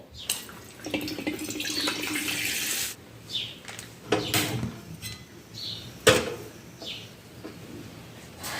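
A kitchen tap runs water in bursts to fill and rinse containers and bags. There are steady splashing stretches, shorter gushes, and a few clunks of vessels being handled nearby.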